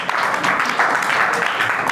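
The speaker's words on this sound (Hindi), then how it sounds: "ताली बजा अपने लिए" Students in a classroom clap for themselves during a Hindi-language grammar lesson, a dense, steady burst of applause from a group, fairly loud and close, with faint speech underneath.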